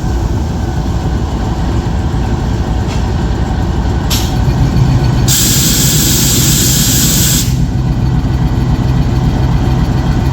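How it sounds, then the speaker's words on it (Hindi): A passenger train departing Lahore railway station gives off a continuous heavy rumble of engine and wheels close by, with a loud hissing burst of air partway through and a few brief higher bursts earlier. "ले जी ट्रेन रवाना हो रही है।"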